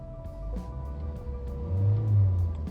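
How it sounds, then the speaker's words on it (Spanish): A Volkswagen Gol's engine idles steadily, then the revs climb and swell into a louder throaty roar near the end, with no talk over it. "Voy a acelerar un poco"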